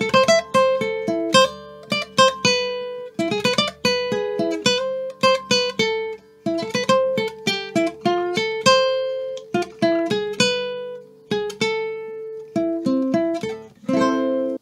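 Requinto guitar plays the opening of a pasillo, a bright, close, clean melody of plucked single notes and quick runs that rings out on its own for about fifteen seconds, with no voices.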